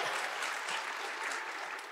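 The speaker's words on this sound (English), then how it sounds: "let's minimize the applause" Audience applause at a Vue.js developer conference talk, a brief, even burst of crowd clapping filling the room at moderate level, tapering slightly at the end.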